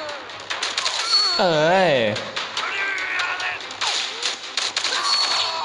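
Rapid gunfire bursts from the mobile first-person shooter Commando Fire Go crackle repeatedly, loud and close, while someone talks and exclaims over the action.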